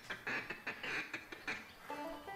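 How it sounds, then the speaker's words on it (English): Mallard ducks quack repeatedly in quick, raspy calls, moderately near, with no talking. "Hey, there's some ducks coming in."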